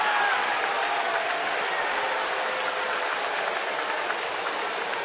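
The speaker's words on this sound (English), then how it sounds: "the Bronx cheer here at Camden Yards" A baseball crowd at Camden Yards gives a Bronx cheer, a loud, steady wash of booing and jeering from thousands of fans that fills the ballpark without letting up.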